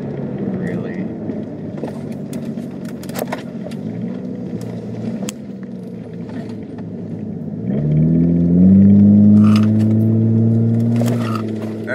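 A 2007 Hyundai Tiburon GT with a four-speed automatic cruising around 35 mph at roughly 1500 RPM; a low engine drone with road rumble, then a steeper, rising engine note as it pulls harder, with soft clicks over it.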